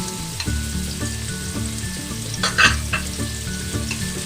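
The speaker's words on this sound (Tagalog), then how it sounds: "Gisa-gisa mo po na natin siya. Para maluto-luto." Tomatoes being sautéed in a pan for sautéed bitter gourd with miso: a steady close sizzle with regular knocking and scraping stirs, a brighter burst of spattering midway, no talking.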